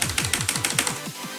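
A loud mechanical keyboard has its keys slammed in a quick, even string of about a dozen sharp clacks. The clacks come close and alone, with no talk, then break off at the end.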